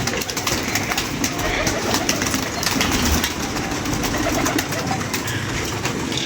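Domestic pigeons coo repeatedly from a loft, soft throaty calls rising over a continuous outdoor background with occasional wing flutters.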